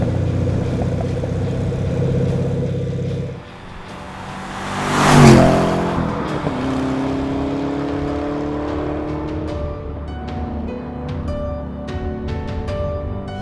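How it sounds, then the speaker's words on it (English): A carbon fiber Chevrolet Camaro ZL1 with lowered suspension drones steadily while driving, then briefly surges in a loud whoosh before the engine note climbs again through rising revs. "Driving that ZL-1 was amazing."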